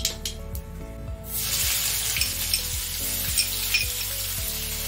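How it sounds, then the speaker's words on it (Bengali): Chopped onion hits hot oil with a cumin and mustard seed tempering for a bean and gram flour curry, bursting into a steady, loud, close sizzle after a brief quiet start with faint clinks. "পেঁয়াজটা একটু ভাজতে হবে, একটু হালকা কালার আসা পর্যন্ত ভাজতে হবে, একটু গোল্ডেন ব্রাউন হোক"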